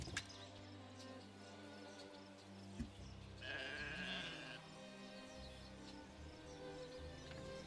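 Sheep bleating in the medieval city-builder game Manor Lords, a few soft calls over a faint ambient backdrop of wind and distant birds, with one clearer bleat standing out partway through.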